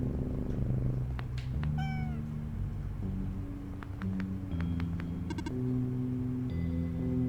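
A cat meows a few times in the video game OneShot. The short, rising calls sit over a looping low game music track and sparse electronic blips.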